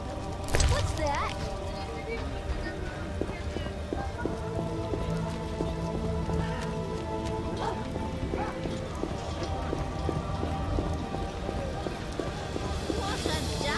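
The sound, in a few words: heavy rain in video game The Witcher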